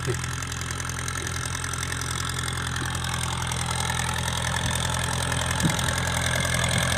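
A farm tractor engine runs at a steady, rumbling idle out in a field, a constant moderately loud chug with faint knocking and no talking.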